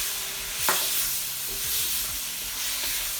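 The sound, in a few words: stirring seasoning and soy sauce into vegetables in a sizzling pan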